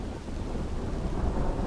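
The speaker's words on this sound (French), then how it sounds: "L'orage éclate et une pluie battante s'abat." A thunderstorm with pouring rain near a Berber village in Morocco: a dense, steady roar of heavy rain with deep, rumbling low noise throughout, with no voices.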